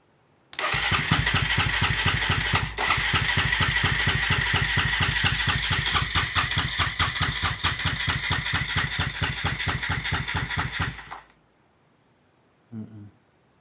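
A TVS Apache RTR 180 motorcycle engine cranks after its starter relay is shorted: a loud, steady, rapid mechanical chugging runs for about ten seconds, then cuts off, followed by a brief faint knock.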